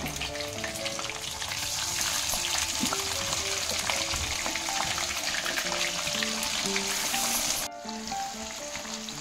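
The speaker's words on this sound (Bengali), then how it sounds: "এবার মাছগুলো আমি একটা একটা করে তেলের মধ্যে দিয়ে দেবো" Fish pieces sizzle and crackle steadily in hot oil with curry leaves in a kadai, a loud, dense frying hiss that continues throughout with a brief dip near the end.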